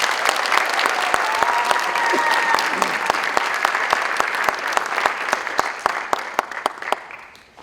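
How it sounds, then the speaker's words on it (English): A school district sports hall of fame crowd breaks into loud, dense clapping with a few whoops, then thins into scattered sharp individual claps as it dies away. "Congratulations and a big round of applause to Hall of Fame inductee, Mr. Andrew DiDonato."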